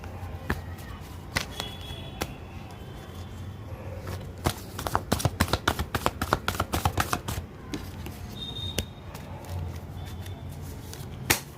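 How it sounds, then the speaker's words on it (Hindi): Tarot cards are shuffled by hand, scattered crisp flicks giving way to a fast riffling burst of rapid snaps in the middle, then slower single flicks, close and fairly quiet. "कार्ड को मिक्स करके"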